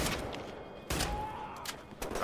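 Double-barrel shotgun blasts in Wolfenstein: The New Order, three or four heavy booming shots spaced unevenly over a couple of seconds, loud and close against a background of game ambience.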